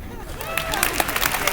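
An audience breaks into applause, swelling from a murmur into dense, close clapping with crowd noise and voices mixed in.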